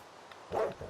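A single short bark from a Minecraft dog, heard as one brief mid-pitched yelp near the end against a quiet game backdrop.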